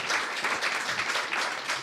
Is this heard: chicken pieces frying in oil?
no